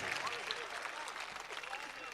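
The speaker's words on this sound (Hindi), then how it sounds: "तालियां बजाइए" Audience applause at a mushaira poetry recital in Ahmedabad, following a couplet by Khursheed Haider: a dense, steady wash of clapping from a large crowd that continues throughout, with voices mixed in.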